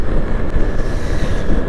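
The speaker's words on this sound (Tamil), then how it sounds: "காற்று செம்மையாக இருக்குது" Wind buffets the microphone of a motorbike at speed on a highway, making a loud, gusty, unbroken roar with low rumbling fluctuations.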